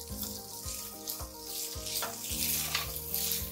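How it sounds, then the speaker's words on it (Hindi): Vegetables sauté over medium heat for a Jain Burmese khowsuey, a steady close sizzle with repeated scraping stirs and clinks of the utensil against the pan, no voices. "मीडियम आंच पे हमें वेजिटेबल्स को सिर्फ 1 मिनट के लिए ही सौते करना है"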